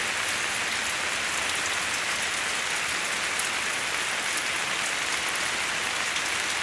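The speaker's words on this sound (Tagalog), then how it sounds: "Umuulan po doon sa labas." Rain falls steadily outside, a dense, even hiss of drops on surfaces that stays constant and moderately faint throughout, with no voices.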